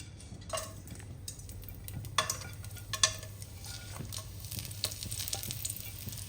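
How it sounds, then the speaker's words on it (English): Whole spices sputtering and sizzling in hot oil in a pan, a steady close crackle with a few sharper pops and light clinks of a utensil against the pan. "I'm just going to add that to the already hot oil, and that's going to start sputtering really quickly"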